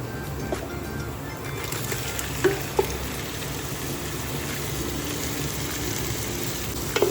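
Marinated chicken hits hot oil in a pan and fries with a steady, dense sizzle, broken by a few sharp clinks of a utensil.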